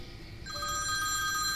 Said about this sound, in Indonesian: Mataku hampir terlelap ketika telepon genggamku berdering.